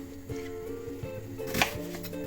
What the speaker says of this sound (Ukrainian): І це все нарізаю не дуже дрібно.